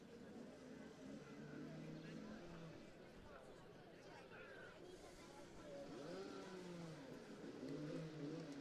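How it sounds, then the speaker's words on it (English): Junior Rotax Max kart engines start up and rev at the Llandow circuit, a steady mid-distance engine drone under background crowd babble and commentary. "We'll have a brief browse while a few engines are started up"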